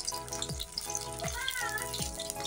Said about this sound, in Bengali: আর একটু নাড়িয়ে চাড়িয়ে ভেজে নেব